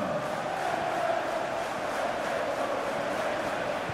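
A stadium crowd in FIFA 17 lets out a broad, sustained murmur and ooh during a late Liverpool attack, a dense wash of many voices at steady volume with no commentary on top.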